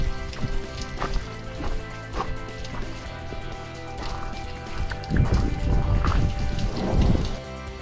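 Steady trickle and patter of rainwater dripping and dribbling after a storm has passed in the Gila outdoors, a continuous wet splashing bed that thickens toward the end, with no talk.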